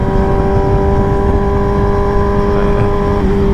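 A 2021 Kawasaki ZX6R with a new exhaust cruising along, its engine holding a steady, loud buzzing drone at a fairly constant pace, heard close up with no voices over it.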